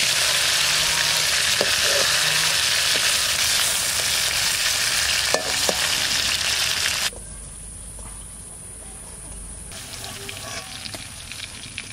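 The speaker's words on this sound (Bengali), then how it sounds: "মাছ সব ভাজা হয়ে গেছে" Fish pieces coated in salt and turmeric sizzle steadily in hot oil in a pan. A loud, dense frying hiss fills the first seven seconds with a few sharp pops, then gives way to quieter running water.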